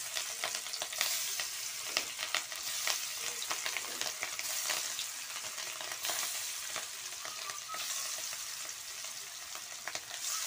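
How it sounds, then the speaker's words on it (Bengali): Hilsa fish rubbed with turmeric and salt fries in hot oil in a large pan, giving a continuous spitting sizzle with sharp crackles and pops, close up and without speech. "যে আমি ইলিশ মাছটা হলুদ আর লবণ দিয়ে মাইখা নিছি, এখন ভাইজা নিব।"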